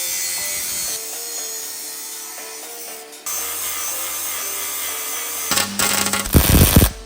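A metal tube, clamped down with a bar clamp and supported by another tube underneath, being cut with a power tool. A steady grinding whine changes pitch partway through and swells into a loud, harsh cutting burst near the end.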